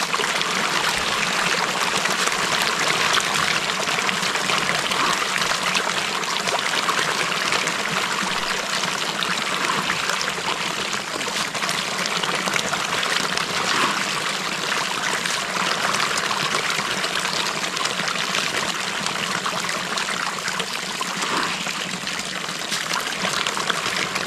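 Water flows and trickles steadily in a rural yard, a continuous hissing, splashing wash that stays even and fairly loud throughout with no voices.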